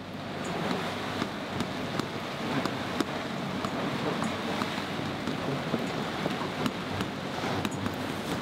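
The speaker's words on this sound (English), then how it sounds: "It's just started raining." Rain beginning to fall on a sailboat at sea between Colombia and Aruba, a steady wash of drops and gusting wind noise with occasional sharp taps against the boat.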